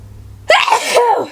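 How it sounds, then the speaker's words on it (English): A single close, loud sneeze bursts out abruptly after a moment of quiet, followed by a brief trailing exhale. "I have to sneeze."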